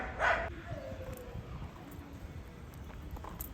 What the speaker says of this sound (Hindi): देखिए वो कुत्ता कहाँ से भौंक रहा है।